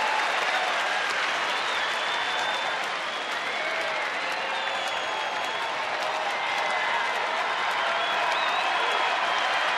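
A baseball stadium crowd at a Rangers home game against the Astros rises in a steady, distant roar with clapping during a tense eighth inning, continuous and fairly even throughout.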